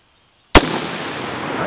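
An AR-15 rifle fired at an outdoor range during iron-sight zeroing: one sharp, loud shot heard clearly, followed by a long echoing decay, with no further rounds audible.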